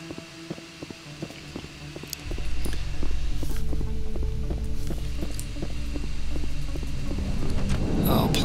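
In the video game Mass Effect, an elevator ride begins with a low steady hum and throb that rises and holds under faint rhythmic clicks, with a brief softer rustle near the end.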